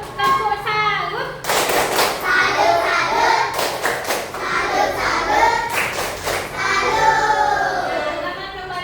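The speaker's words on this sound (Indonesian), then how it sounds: "beri tepuk tangan dulu untuk kelompok Doraemon" Children in a classroom clapping for a group, bursts of rhythmic applause starting and stopping several times, mixed with a voice and children talking between rounds.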